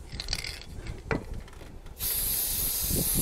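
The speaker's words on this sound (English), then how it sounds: "Spray it up down there because I can always wipe off the excess." A can of Gorilla spray adhesive lets out a steady, loud, close hiss while being sprayed during a lightbar install on a vehicle, after a few seconds of rubbing and mechanical clicking.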